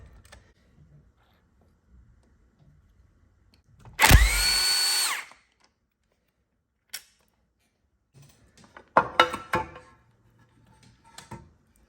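An impact gun or power tool spins a bolt out of the end of a Harley-Davidson Bad Boy starter pinion, one loud burst of about a second, followed by scattered clanks and tool handling.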